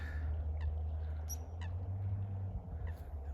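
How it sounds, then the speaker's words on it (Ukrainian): Several birds call in short, sharp chirps scattered across a steady low rumble of wind or traffic in the coastal town of Stubbekøbing on Falster, Denmark, with no voices. "по полях птахи, в морі птахи, тут птахи люблять тут в Данії знаходитися"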